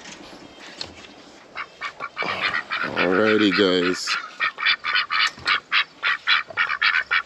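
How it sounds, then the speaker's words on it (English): Ducks at a backyard duck and chicken coop quack loudly at breakfast feeding time, a fast run of repeated nearby quacks that builds into a steady rhythmic series, with someone speaking briefly at the start. "go feed the ducks."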